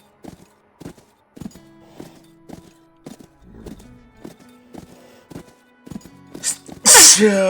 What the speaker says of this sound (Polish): przepraszam was, kurde, aż musiałem kichnąć